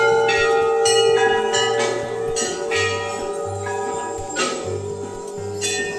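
Bells ring at a hill temple of Chitai Golu Devta, with loud overlapping metallic strikes in a busy, uneven clangour mixed with lower repeated bell tones.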